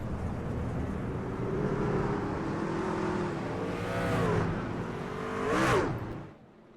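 Race trucks at Talladega run behind the pace car with an engine whine rising and falling, then two quick passes sweep by up close, loud and rushing, before the sound drops away.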